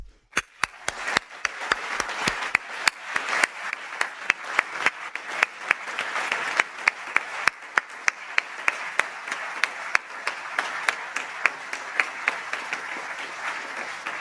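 Audience applause welcoming speakers onto a stage, a steady wash of many hands clapping with sharp individual claps standing out near the front, continuing for about fourteen seconds without talk.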